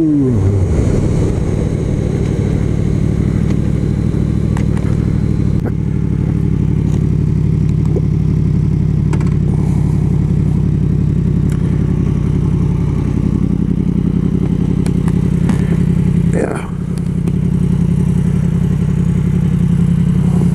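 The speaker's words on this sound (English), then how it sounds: "This bike is a lot faster than my Triumph Speed Ripple." A Yamaha MT-10 motorcycle ridden fast, its engine droning loud and steady with a rising whine and gear-shift dips, close up amid wind rush.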